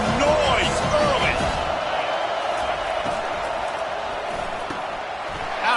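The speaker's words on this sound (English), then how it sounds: "This crowd bringing the energy and noise early" A football stadium crowd roars early in a game, a loud, constant wash of cheering and noise that holds steady from start to finish, with a few brief higher whoops near the start.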